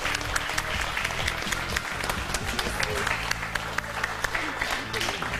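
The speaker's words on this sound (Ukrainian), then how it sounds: "ці оплески для тебе" Sustained, loud audience applause fills a TV talent show studio, dense clapping from a crowd continuing steadily with a voice briefly underneath.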